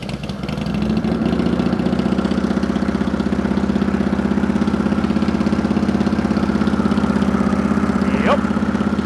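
A Harley FXR motorcycle engine on fresh exhaust pipes fires up and settles into a steady, loud, throbbing idle, close by, with a brief higher whine near the end.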